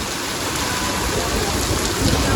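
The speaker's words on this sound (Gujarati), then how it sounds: "એટલો ખતરનાક વરસાદ પડવાનું ચાલુ થઈ ગયું" Heavy rain pouring down in Patan, a steady dense hiss that swells slightly toward the end, close and unbroken, with no voices.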